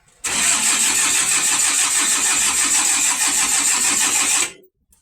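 A forklift engine, started in neutral, cranks and catches almost at once, then runs at a steady, loud mid-pitched idle for about four seconds before cutting off abruptly, with no voices.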